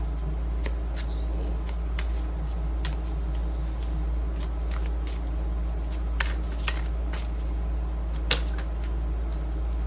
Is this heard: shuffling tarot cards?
yes